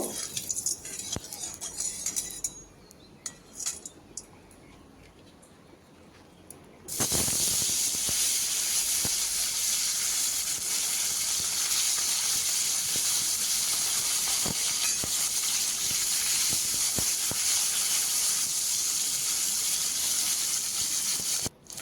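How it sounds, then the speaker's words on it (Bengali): Taki fish dropped into hot mustard oil in a kadai, a loud hissing sizzle that bursts in suddenly and holds steady and continuous, after a quieter stretch of faint kitchen clatter. "এবার মাছগুলো ভেজে নেব।"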